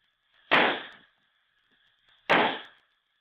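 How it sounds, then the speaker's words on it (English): Roman candle fireworks fire off in two sharp hissing bursts, each about half a second long, roughly two seconds apart, with a faint steady tone between them and no talking. "The fireworks display is just starting."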